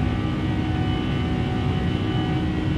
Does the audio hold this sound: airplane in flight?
yes